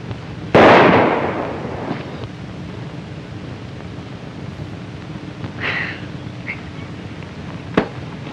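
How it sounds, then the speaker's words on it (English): A single loud gunshot rings out in a 1939 western film, a sharp crack with a decaying tail, followed by faint scattered pops and a brief distant shot near the end. "That's pretty good shooting."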